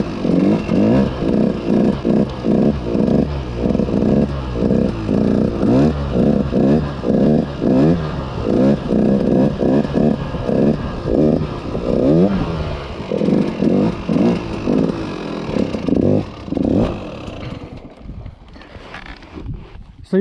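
A dirt bike engine revs in rapid, rhythmic surges during a circle wheelie, loud and close, with wind rush over it and a fade near the end.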